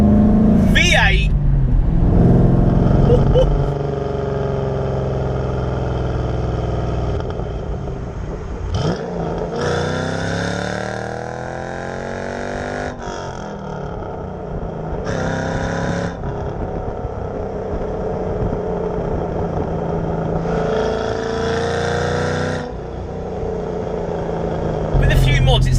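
An imported left-hand-drive Ford Mustang Bullet tribute with a remapped V8 and exhaust system runs steadily and loudly, with a surge of revving at the start, while someone talks over it throughout.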